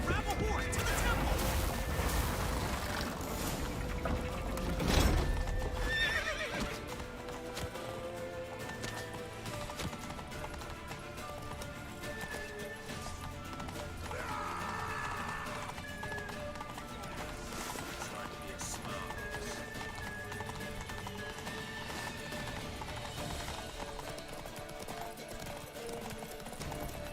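Hooves clip-clop in a quick galloping rhythm with an occasional whinny, mixed with clashing game effects and voices in the background, in The Witcher 3.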